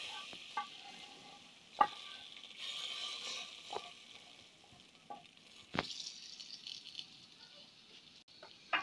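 Tempering (baghar) poured into masoor dal, giving a soft, faint sizzle with scattered clinks and stirring rattles, several sharp taps standing out over a quiet hiss.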